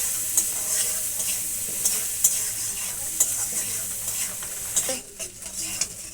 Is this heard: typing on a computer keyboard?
no